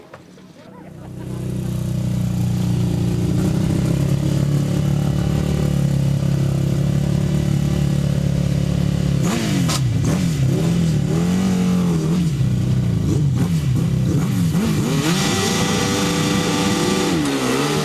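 Grasstrack racing motorcycles on the opening lap of a 2009 Fenland Trophy meeting roar continuously down the back straight, engines loud and revving hard, with rising and falling pitch as the bikes pass close by.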